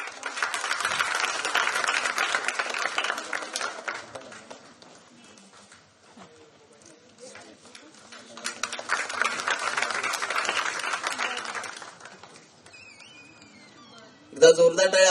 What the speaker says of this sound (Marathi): एकदा जोरदार टाळ्या झाल्या पाहिजे अनिकेत सोनवणे यांच्यासाठी